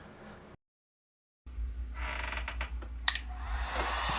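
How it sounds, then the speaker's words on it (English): A heat gun blows hot air near a bench where RAM heat spreaders are being removed, starting abruptly after a short silence and holding a loud, steady roar with a low hum underneath and a few brief clicks. "I got my heat gun out."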